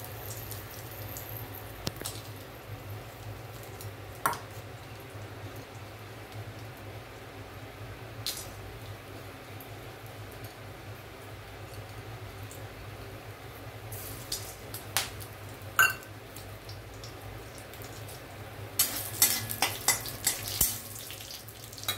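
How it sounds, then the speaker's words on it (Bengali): Onion frying with whole garam masala in a pan, a low continuous sizzle close by with occasional clinks and scrapes of stirring against the pan, growing busier toward the end. "একটু পেঁয়াজটা ভেজে নিচ্ছি।"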